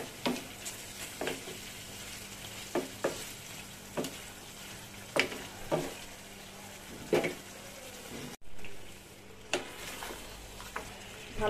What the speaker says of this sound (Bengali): এখন খোলা অবস্থায় মাংসটা কষাবো